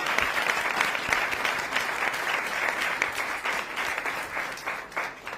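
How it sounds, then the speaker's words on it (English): An audience at a groundbreaking event for a new high school applauds a school music class, a steady round of clapping at moderate volume that tapers slightly toward the end, with no talking. "join me in giving another round of applause for the Carmen South Music class."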